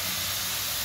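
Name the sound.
a little water added to cooking vegetables in a hot pan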